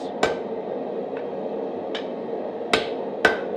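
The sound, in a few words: hammer striking hot steel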